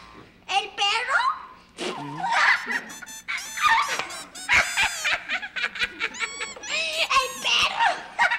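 A man in a Peruvian clown comedy imitates a dog with yelping, barking vocal sounds, loud and close, mixed with laughter and other voices.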